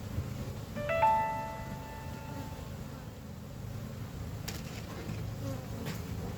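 Steady buzzing of bees around a hive drones continuously in the background, with a brief tonal beep early on and faint knocks later.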